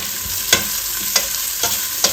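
Sliced onion and chili pepper frying in hot oil in a pan, a steady bright sizzle with a utensil stirring and scraping about three times under it, close up and with no voices.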